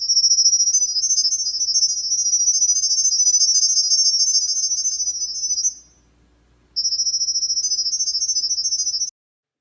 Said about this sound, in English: Now this noise is supposedly supposed to connect to the camera somehow.